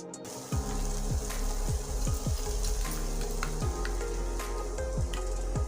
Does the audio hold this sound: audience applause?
no